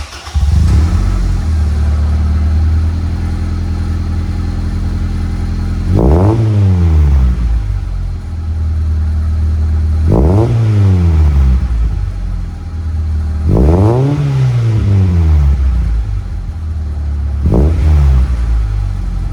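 A Honda Integra with a Spoon exhaust idles loudly and close, then blips the throttle four times at spaced intervals, each rev rising sharply and falling back to a deep, steady idle.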